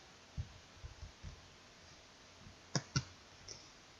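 Two quick, crisp computer mouse clicks close together near the end, following a few soft low taps, with quiet room hum throughout and no talking.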